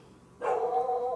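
A single dog bark or yelp outdoors, one short moderately loud call that rises abruptly after a quiet start and trails off.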